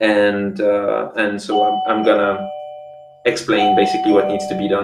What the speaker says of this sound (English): that's the doorbell of the dog